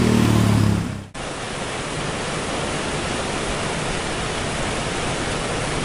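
A waterfall at Malshej Ghat produces a dense, steady roar of rushing water that fills the scene continuously after a brief louder noise at the start.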